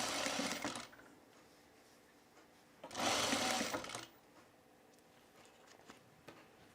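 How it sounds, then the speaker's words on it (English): A sewing machine stitches a shirt's top collar and interfacing to the neckline, a steady faint hum punctuated by two louder runs of rapid stitching. "Now we're just sewing the top collar and the interfacing to the neckline, all the way around till we get to the center front."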